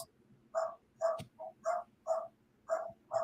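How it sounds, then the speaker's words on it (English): Dogs bark in a steady series of about seven sharp, evenly spaced barks at moderate distance over a quiet background, with no talking. "Damn dogs."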